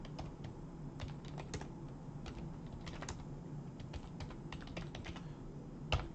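Steady clicking on a computer keyboard, close and continuous with uneven key taps over a quiet room hum, no one speaking.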